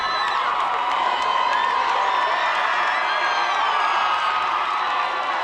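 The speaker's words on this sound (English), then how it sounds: "the crowd gets loud because they know this is an important moment here" A varsity high school football crowd at a night game roars loudly and steadily, a dense wall of cheering and whooping voices late in a tight fourth quarter, sustained without pause.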